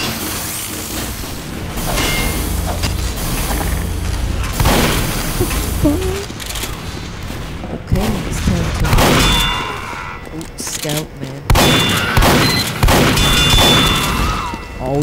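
A sentry turret is destroyed in the Team Fortress 2 video game, with loud metallic clangs, pops and blasts amid a busy barrage of gunfire and explosions. Players talk over the action throughout.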